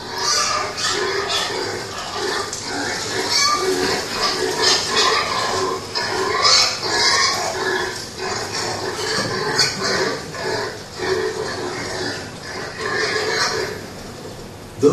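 Pigs in Tuvalu grunting and squealing close by in irregular bursts throughout, fairly loud with no talking.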